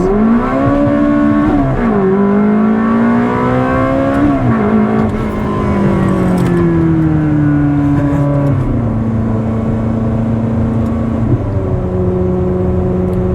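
A Ferrari engine in sport mode revs and accelerates hard through several gear changes, the pitch climbing and dropping at each shift, loud, steady and close, with no talking.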